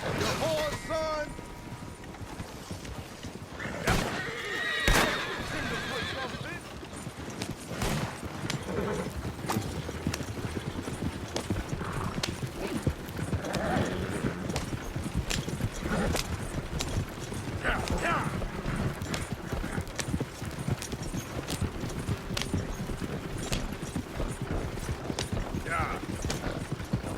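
Horse hooves clip-clopping with a neigh in Red Dead Redemption gameplay, a steady galloping patter mixed with game sounds and short bursts of talk.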